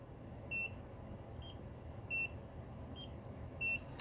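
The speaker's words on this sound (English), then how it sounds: "you press the button, and it beeps" A NIRA laser skincare device gives a series of short, quiet electronic beeps at a fairly regular pace over a faint background hiss.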